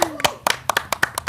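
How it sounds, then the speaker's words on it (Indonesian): A small group of people clap their hands in a short burst of about nine sharp, uneven claps at a podcast recording with members of Sekaa Pelayang Badung, while someone talks over the start. "tepuk tangan dulu dong"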